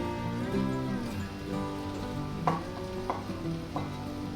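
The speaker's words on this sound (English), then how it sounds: "And we're going to add the zucchini back in." Zucchini and cooked pasta sizzle in a hot pan, a steady soft frying hiss with a few light clatters and stirring knocks.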